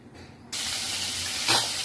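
Fish going into hot oil in a pan to fry, a sudden loud hiss bursting up after a brief quiet moment and holding steady as a strong, even sizzle, with a slight surge near the end.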